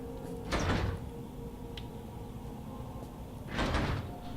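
Doors slide open in the horror video game Penumbra: Black Plague. There are two separate rumbling swooshes about three seconds apart over a steady low ambient hum.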